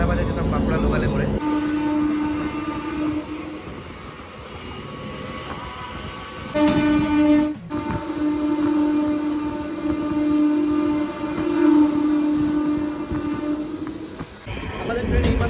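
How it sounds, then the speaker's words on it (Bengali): A Purulia–Howrah local train runs along, a steady rumble with a sustained horn-like tone throughout and a brief break near the middle, with voices in the carriage. "আমাদের ট্রেন এইমাত্র সুরাট স্টেশন ছাড়লো"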